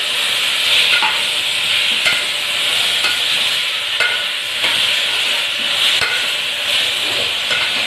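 Chopped onions and tomatoes sizzle steadily in a pressure cooker for a vegetable kurma, with a spoon scraping and stirring at a regular rhythm, close and continuous with no talking.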